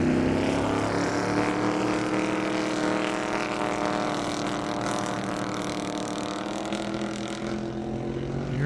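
A 2,500 horsepower drag racing car running down an airport airstrip, with a loud sustained engine drone and rising pitch tones as it builds speed, fading slightly toward the end.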